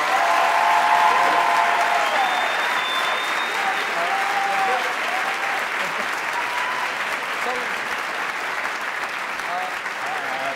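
An audience at a live talk event featuring Bob Saget and John Oliver gives sustained, full applause, a steady roar of clapping close and loud for over ten seconds, with voices and a few whoops threading through.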